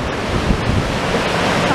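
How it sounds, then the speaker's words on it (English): Ocean waves crash and surge continuously while strong wind buffets the microphone, a loud, steady roar with no voices. "look at those waves"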